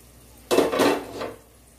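A metal pot lid lifted off a pot of kuska: one clattering clank, then a brief scraping rattle and a fainter knock as the lid settles, close and alone.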